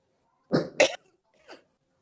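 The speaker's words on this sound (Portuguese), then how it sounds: "eu não estava tossindo até agora" A person coughs twice in quick succession, close and loud, followed by a fainter, shorter cough after a brief pause.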